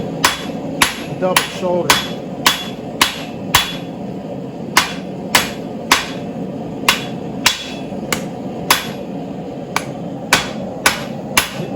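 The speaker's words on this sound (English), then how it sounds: "now I'm going to start digging in with my peen" Blacksmith's hammer strikes steadily on hot steel while peening a double shoulder to forge tongs, about twenty sharp ringing blows in an even rhythm, close and loud, with a brief spoken remark between blows.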